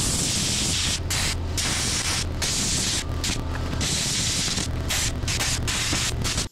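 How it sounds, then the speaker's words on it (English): Plasma cutter cutting metal freehand during repair of a CAT D3 dozer, a loud steady hissing roar with brief gaps where the arc stops and restarts. "I'm gonna use the plasma cutter in freehand just to kind of rough it out as best I can"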